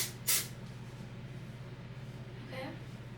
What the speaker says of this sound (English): So this is the volumizing dry texture spray. We're going to try it in my roots.